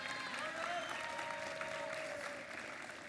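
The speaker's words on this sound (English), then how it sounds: "Give them a big round of applause." Crowd applause for the referees at the opening ceremony of a FIRST Tech Challenge state robotics championship in Georgia, sustained clapping across a large venue at moderate level with a faint tonal whine behind it.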